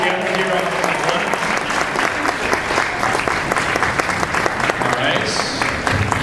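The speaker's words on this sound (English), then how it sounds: "a big warm round of applause again for all of our honorees" An audience at an award ceremony claps steadily and warmly for honorees on stage, dense sustained applause throughout, with a voice speaking briefly over it.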